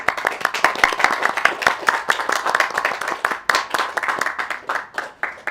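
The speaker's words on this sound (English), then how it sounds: "the applause are for the project, not for me, because I didn't develop this" A conference audience at a wireless mesh networking event breaks into steady, dense applause, many hands clapping together at close range for several seconds without talk.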